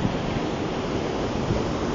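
Ocean waves surging up a beach at Playa Asia in Lima during a swell, a continuous loud wash of surf with wind buffeting the microphone and no voices.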